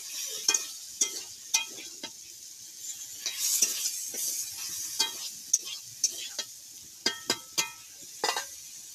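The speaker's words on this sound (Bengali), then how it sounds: "এবার আলুগুলো দিয়ে দেব বন্ধুরা এতে, দিয়ে একটু ভালো করে নাড়িয়ে নেব।" Potatoes frying in a pan for a ridge gourd and potato curry, stirred with a utensil, giving a steady sizzle with repeated sharp scrapes and clinks at an uneven rhythm, close and alone without talk.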